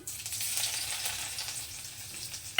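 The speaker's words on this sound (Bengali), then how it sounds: "তেলের মধ্যে আমি যে রসুন কুচিগুলো করে রেখেছি তো সেই রসুনগুলো দিয়ে দিচ্ছি" Chopped garlic fries in hot white oil, a steady close crackling sizzle that holds evenly, ending with a brief sharp clink.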